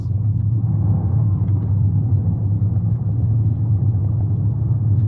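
A Toyota Yaris GR on the move, heard as a steady, close, low engine and road rumble from inside the car, even and unbroken, with no talking.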